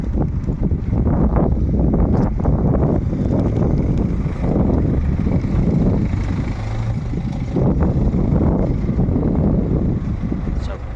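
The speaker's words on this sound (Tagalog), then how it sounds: "Mainit pero malamig ang simoy ng hangin." Constant low rumbling wind noise outdoors at night near a Lidl supermarket in Passau, Germany, loud and blustery throughout, with muffled gusts buffeting the microphone.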